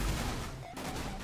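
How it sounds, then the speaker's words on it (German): Small cars blowing up in Goat Simulator's junkyard make a loud burst of crackling, crashing blasts packed into about a second, with a brief dip before the rumble resumes. "die kleinen Autos explodieren halt genauso heftig wie die großen"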